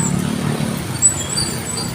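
Heavy road traffic with many vehicles passing makes a steady, close, low rumble, with no talking.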